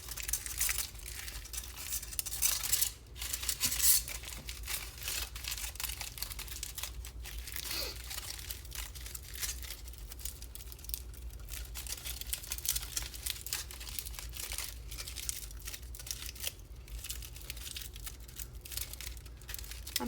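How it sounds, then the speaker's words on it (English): Aluminum foil being crumpled, compacted and adjusted by hand while shaping a small figure for a man-on-the-moon sculpture, giving a steady run of close crinkling and crackling over twenty seconds with no talk. "this is when we can kind of crumple it a little bit more and define our character"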